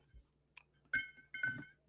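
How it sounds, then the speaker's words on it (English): Ice cubes clink against a glass as a drink is stirred: a few bright, ringing taps, close and quiet, in short clusters, with no talk. "Get a little bit of clinking ice ASMR."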